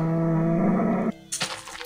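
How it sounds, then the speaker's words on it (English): Loud cows lowing in a video game, a long sustained moo filling the first second before cutting off, followed by softer brief ambient sounds. "Loud freaking cows."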